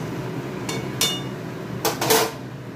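A lid being set on a cooking pot of Malabar spinach on a gas stove, giving a few bright metallic clinks and a short rattle, close by.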